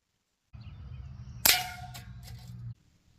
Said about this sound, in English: And for the spinner, I'm actually going to do 10 shots.